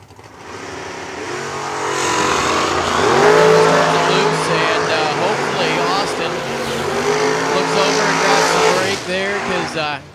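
A Camaro roars off the starting line at a drag race, engine revving hard and loud over heavy crowd and track noise while an announcer talks throughout.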